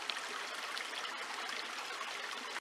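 A river stream rushes and splashes steadily over small stones, a continuous close broadband water sound with no voices, cutting off abruptly at the end.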